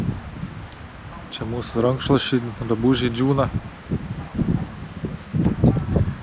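Strong wind blows outdoors at a campsite in northern Denmark, rumbling and buffeting the microphone in gusts while someone talks over it, with towels and clothes hung out to dry nearby.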